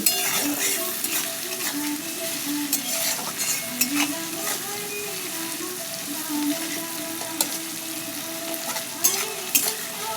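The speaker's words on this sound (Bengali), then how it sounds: "চিনি আর নুনটাকে দিয়ে নাড়াচাড়া করে নিচ্ছি।" Sugar and salt stirred as they fry in a pan while ghugni is being cooked, giving a continuous close sizzle with repeated spatula scrapes and light clinks against the pan, with no talking.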